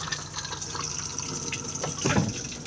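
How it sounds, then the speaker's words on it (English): Water flushing into a motorhome cassette toilet bowl in a 2021 Benimar Tessoro 486, a steady close rush of liquid that swells briefly toward the end, with no talking. "Just slide the grey lever across, push the flush just here"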